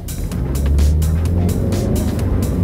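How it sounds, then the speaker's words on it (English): A car accelerating forward, a steady low engine rumble and road roar that swells and holds loud for a few seconds, with no voices over it. "Watch what happens when the car starts to accelerate."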